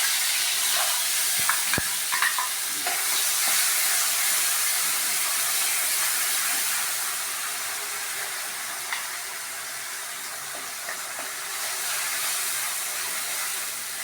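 Freshly ground masala paste sautéing in a pan for a drumstick curry, a continuous close hiss and sizzle with occasional stirring knocks and scrapes, easing slightly in the middle and steady throughout.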